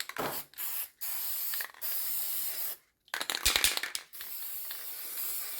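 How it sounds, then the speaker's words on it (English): Several bursts of aerosol protective coating spray hissing close by onto a birch bark bird's nest, each a second or so long with short pauses between, ending in a longer steady spray. "I'm going to go ahead and I'm going to spray these just to give them a protective coating"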